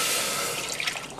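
Whole milk pours into a pot for ashta, a milk-based custard, giving a steady, close liquid stream with a soft splashing hiss that runs briefly and alone.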